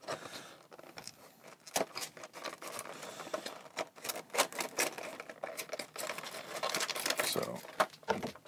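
Blade slicing and tearing through the plastic and cardboard packaging of a Mini GT model car, a close, busy run of crinkling, scraping and tapping with handling noise throughout.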